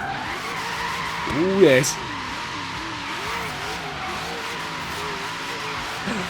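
A 471-horsepower Ford Falcon GT F 351 in Forza Horizon 3 growls along with a wavering engine note, tires squealing in a brief skid near the start, while someone speaks briefly.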